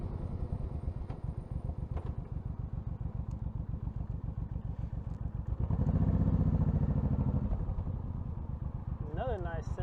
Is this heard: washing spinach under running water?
no